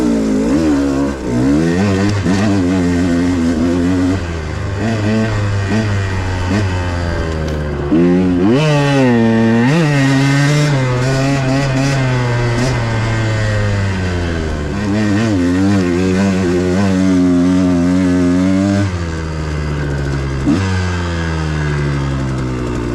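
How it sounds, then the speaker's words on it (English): A VeeMoto motorcycle engine fitted with a Keihin 36mm carburetor revs repeatedly, rising and falling in pitch with sharp throttle blips, loud and close for a long stretch without talk. "what do you think about the way the motor sounds?"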